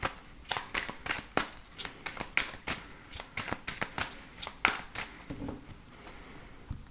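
Tarot cards are shuffled by hand in a quick run of crisp, rhythmic riffling bursts, close and clear, about a dozen snaps in steady succession with no talking.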